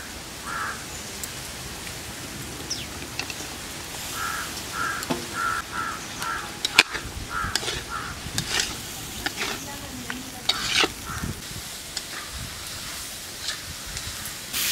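Potatoes and chopped tomato fry in a pan during rainy season in a village setting, with a soft sizzle and scattered scrapes of stirring, while crows caw repeatedly in the background.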